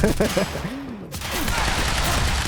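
Gunfire rattles in Quantum Break, heavy and loud, with a burst and then a sustained dense fusillade while a shield blocks incoming bullets; a voice-like tone wavers briefly underneath.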